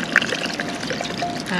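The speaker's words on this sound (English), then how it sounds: "Adding a little water." Water is poured into rice sautéing in a hot pan outdoors, giving a short splashing pour with a light sizzle that lasts under two seconds.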